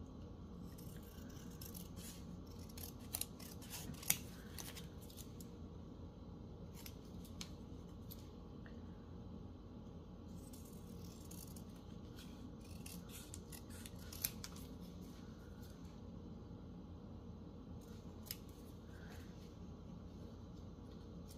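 Scissors cutting 12x12 scrapbook paper, heard as a quiet, steady run of soft snips and faint rustling that goes on for about twenty seconds without any talk.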